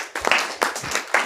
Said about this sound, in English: Can we all clap for that?